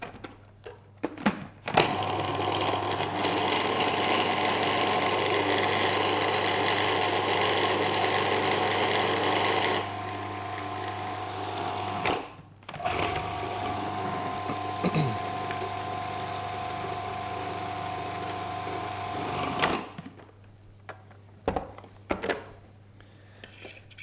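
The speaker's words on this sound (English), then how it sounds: "When you make it in the food processor, you'll notice that you get a very fine crumb." A food processor blends fresh pasta dough with a loud, steady motor whir that runs for several seconds, drops in level, cuts out briefly, then whirs again before stopping, leaving a few light knocks.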